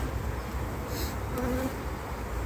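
Honeybees on a hive frame set into a receiving hive during a spring colony inspection, a steady close buzz of many bees humming continuously without pause.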